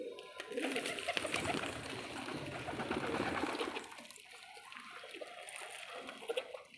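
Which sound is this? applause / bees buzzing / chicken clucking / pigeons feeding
pigeons feeding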